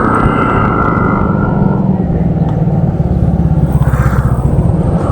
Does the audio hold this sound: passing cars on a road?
yes